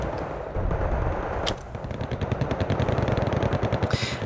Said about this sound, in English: It looks like rocket artillery coming on to the Merkavas now.